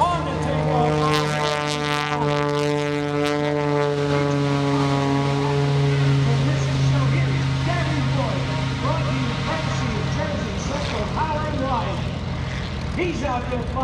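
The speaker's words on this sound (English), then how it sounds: "He's out there flying the 2C carbon fiber MX2 aerobatic airplane." A carbon fiber MX2 aerobatic propeller plane drones loudly on takeoff at an airshow with a steady harmonic hum that rises and shifts in pitch, with crowd or announcer noise underneath.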